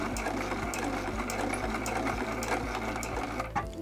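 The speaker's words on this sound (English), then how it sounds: "And then I'm going to sew over the strap, back stitch all the way over the strap" A sewing machine runs steadily at a fast, even pace while back stitching over the strap of a small tote bag made from fabric scraps.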